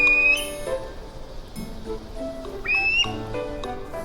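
Frightened birds give repeated warning calls to their young: clear whistled notes and short tonal calls in bursts, with a sharp high whistle at the start and again near the middle.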